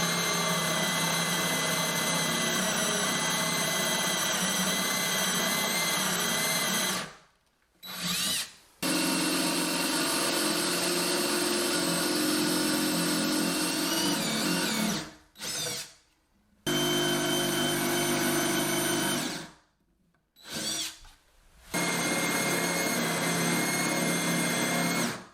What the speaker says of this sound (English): What I'm going to do is drill down with a Forstner bit about the depth of the bit